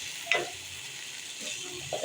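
Soybean curry simmering and being stirred in a pan, a soft steady sizzle with a few scraping stirs of the spoon, close and fairly quiet, no voices.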